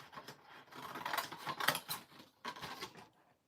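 Scissors cut through packaging for a junk journal in a quick run of close, crisp snips and rasping slices, then stop into silence.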